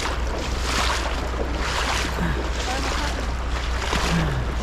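A river rushes steadily in an outdoor spot where people go fishing, a broad, constant wash of flowing water with some wind buffeting the microphone, loud and close throughout.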